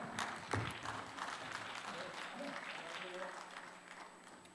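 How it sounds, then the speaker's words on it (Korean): Audience applause at the 2019 Daegu Smart City international symposium, a steady broadband clatter of many hands sustained through the stretch with faint voices mixed in, moderately distant and even in level. "이민아 이사장님께 큰 박수 부탁드립니다."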